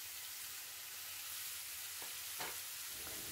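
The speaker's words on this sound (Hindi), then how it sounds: "अब मैं इसे तेल में फ्राई करूंगी" Cut potatoes and button mushrooms frying in hot oil in a pan, a quiet, even sizzle running throughout with a couple of light clicks from stirring near the end, no voices.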